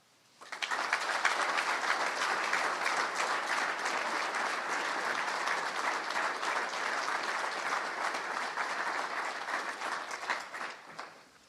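Sustained audience applause greeting the new Iowa Hawkeye men's basketball coach at his introduction, a full, steady clapping crowd lasting about ten seconds before tapering off.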